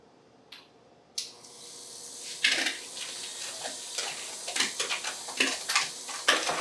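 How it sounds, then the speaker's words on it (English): Butterfinger cookie dough with egg and vanilla is mixed in a bowl, giving quiet, irregular scraping and tapping strokes that grow busier as stirring picks up, soft and close with no talk. "We mix again."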